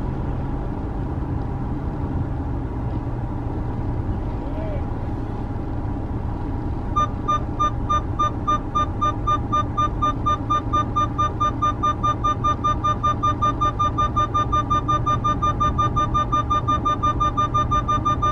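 Nissan Qashqai reversing under its self-parking function, a steady engine hum inside the cabin joined midway by a rapid, regular electronic parking-sensor beeping that continues to the end.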